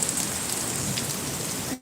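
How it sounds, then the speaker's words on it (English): Hail mixed with steady rain pours down just outside an open home garage, a dense, continuous patter that stays close and even before cutting off abruptly at the end. "There's a little bit of hail."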